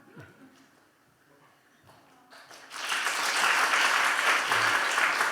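A church congregation starts clapping partway through, building from a quiet room with faint sounds into sustained, loud applause that fills the rest of the moment.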